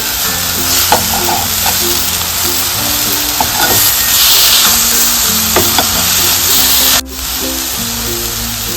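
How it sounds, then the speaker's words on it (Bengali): Dried red chillies dry roasting in a pan give off a steady, loud sizzle and crackle with soft scraping from stirring, and the sound cuts out abruptly near the end. "শুকনো লঙ্কা ড্রাই রোস্ট করে নেব।"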